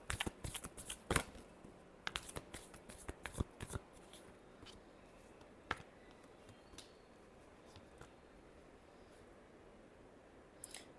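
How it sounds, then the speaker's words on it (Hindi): Tarot cards being shuffled by hand, close and crisp, in quick bursts of riffling flicks with short pauses between, fading to quieter handling and a few last snaps. "Last shuffle."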